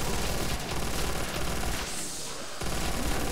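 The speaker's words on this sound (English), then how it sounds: "MG42, I do love you right now." MG42 machine gun fire in a Call of Duty Zombies match, loud and dense, with a steady burst filling most of the clip and a short lull before it resumes.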